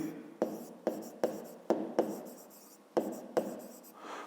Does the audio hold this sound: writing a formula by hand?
yes